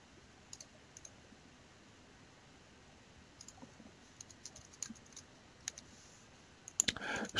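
Quiet, close clicks of a computer keyboard as HTML code is typed, sparse irregular keystrokes scattered over a faint background, ending in a quick louder burst of presses.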